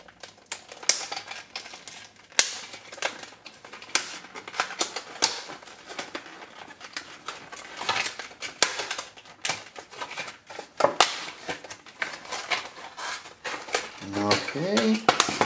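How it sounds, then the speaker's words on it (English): Plastic packaging rattling, crinkling and clattering as a Wheeler trigger pull scale is taken out and the package ripped open, irregular close bursts of handling noise with a brief voice near the end. "Let me go ahead and take this out of the packaging"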